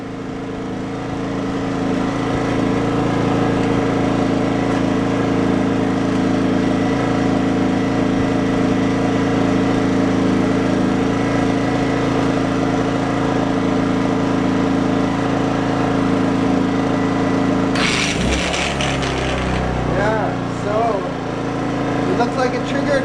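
A Sportsman 2200W/1800W inverter generator runs with an angle grinder plugged in, giving a loud, steady droning hum that abruptly shifts and warbles near the end as the load changes.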